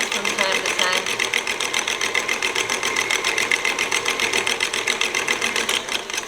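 Electric mixer creaming butter and shortening, a steady whirring motor with a rapid pulsing rhythm, close and continuous, while a voice speaks over it.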